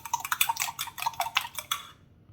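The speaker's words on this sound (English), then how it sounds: "And I'm going to add 1 egg to it in the middle. Yes. And to try and mix everything together." An egg being stirred into sardine meat pie filling in a bowl, giving quick, close, repeated clinks and scrapes of a utensil against the dish for about two seconds before stopping.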